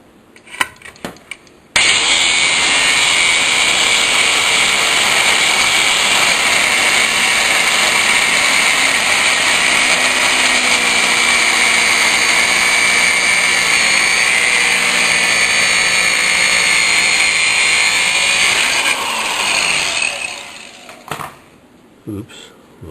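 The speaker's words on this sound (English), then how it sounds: "Next, I'm going to remove that flange. Cut the bolt off." Power tool with an extra-thin cutting blade slicing off a rusted flange bolt on a circulating pump and pressure regulator setup, a loud steady high-pitched grinding whine running continuously for most of the time before winding down.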